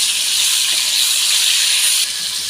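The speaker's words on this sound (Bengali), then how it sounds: "লবণ দিয়ে টমেটোগুলো একটু কষিয়ে নিয়েছি" Chopped tomatoes fry in hot oil with salt for an egg curry, giving a steady, close, loud sizzling hiss with no break.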